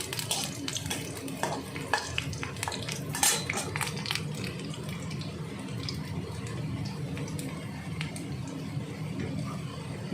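Mustard greens dropped into a hot pan with ginger and chilli and stirred, giving a steady wet hiss and rustle with scattered clinks of a utensil against the pan, close and moderately loud throughout.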